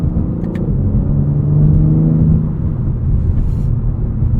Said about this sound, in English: one more launch control, because that was insane